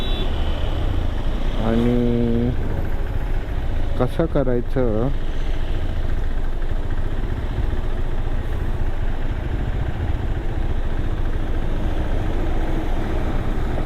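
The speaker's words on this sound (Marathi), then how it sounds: "खूपच जास्त ट्रॅफिक आहे मित्रांनो इथे." Heavy road traffic on Ghodbunder Road: a constant rumble of engines with two bursts of car horns early on. A voice talks over the traffic noise.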